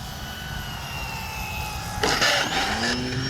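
Wheels of an RC Tecnam model plane grinding on the ground during a touch-and-go landing, a brief broadband scraping burst over the steady drone of the airplane's motor, fairly close.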